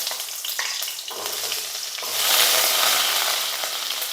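Chopped onions hit hot oil in a curry pan, a loud close sizzle that swells and crackles steadily for several seconds with faint stirring, no voices.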